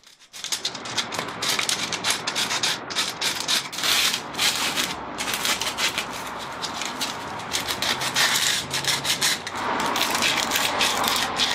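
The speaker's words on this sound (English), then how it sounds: "I sanded them with 60 grit sandpaper so the wood filler would bond better" Plywood boards on the porch of a 100-year-old house are sanded by hand with coarse 60-grit sandpaper, producing close, steady rhythmic scratching strokes that continue without pause.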